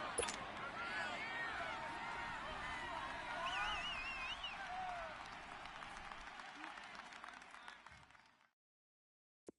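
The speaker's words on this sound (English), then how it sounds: "the crowd getting into it as we come up on a big 3rd down" Crowd in an American football video game cheers and claps in a steady roar that builds midway, then fades out and cuts to silence near the end.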